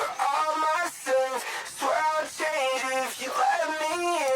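Singing voice run through a Waves Doubler plugin preset set to chorus only with no dry signal, a shimmering, doubled and slightly detuned vocal phrase, moderately quiet and continuous.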